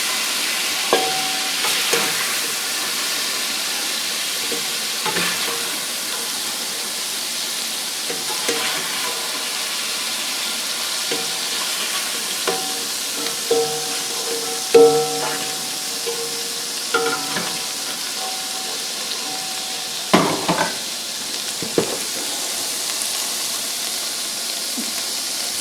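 Onions cook in a hot pan, a loud continuous sizzle throughout with periodic scraping stirs and occasional clunks of a utensil against the pan.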